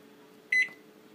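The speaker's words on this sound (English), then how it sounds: "I'm setting the timer for 25 minutes." A kitchen timer being set for a custard dessert, giving one short, clear electronic beep in an otherwise quiet room.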